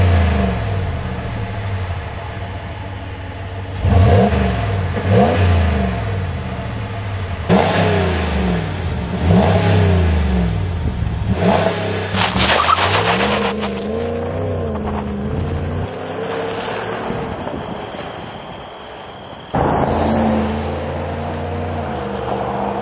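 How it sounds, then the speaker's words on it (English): A 5.7 HEMI V8 on its stock exhaust revs loudly again and again, the exhaust roar rising and falling in pitch with brief pauses between bursts. "drop a few clips of the stocked exhaust before we run it"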